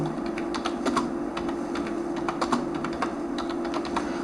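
Fast typing on a computer keyboard while entering a name into an online exam application form: steady, close rapid key clicks alone with no talking.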